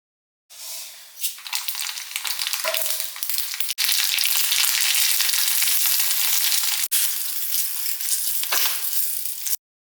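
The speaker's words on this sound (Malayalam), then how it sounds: "വെളിച്ചെണ്ണയിൽ കടുകും വറ്റൽമുളകും കൂടി നമ്മൾ താളിച്ച് ഇവിടെ ചേർത്തു" Mustard seeds and dried red chillies sizzle and crackle hard in hot coconut oil while tempering for a jackfruit sambar, a loud, steady frying hiss with sharp pops running nearly ten seconds before cutting off.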